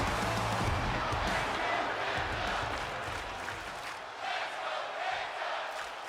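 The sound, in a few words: crowd cheering in WWE 2K25 video game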